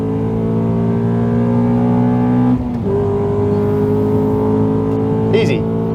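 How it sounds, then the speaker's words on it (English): A car on a race track accelerates out of a corner, its engine droning loudly and close with a steady tone that briefly dips and shifts before pulling on again. "then give it some beans"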